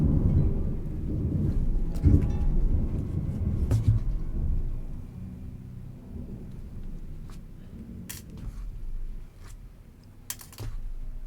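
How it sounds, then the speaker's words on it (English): Low thunder rumbles through a storm outside, long and fairly loud at first, then fading, while computer keyboard typing clicks sporadically close by. "Yeah, they were not kidding when they said it was gonna storm."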